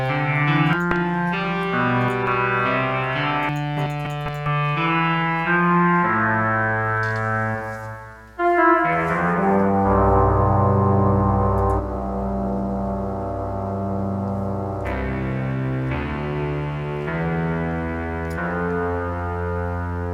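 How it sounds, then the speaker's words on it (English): Layered synth tones drenched in lush reverb from the Luna rack extension in Propellerhead Reason 10. Sustained chords wash into long tails, with a brief dip near the middle before the dense, echoing texture swells back at steady loudness. "this is really good sounding reverb here"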